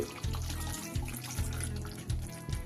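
Water left from frying paneer being poured into a butter paneer gravy, a steady close splashing pour with small bursts as it hits the pan.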